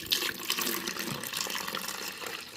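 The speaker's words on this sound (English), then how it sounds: "That's the apple juice going in." Apple juice poured into a pitcher in a home kitchen, a steady, continuous splashing gurgle of liquid filling the container, fairly close, with no talking.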